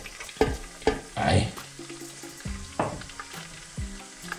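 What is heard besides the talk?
chopped garlic frying in chicken oil in a pan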